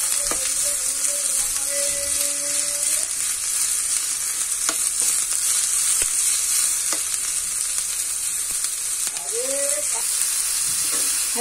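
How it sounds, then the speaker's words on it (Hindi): Green garlic frying in a pan, a steady, loud hiss of sizzling oil throughout with occasional scrapes and clinks of stirring, and a brief high squeak of a utensil near the start. "और अब हम इसमें हरा लहसुन डाल देंगे।"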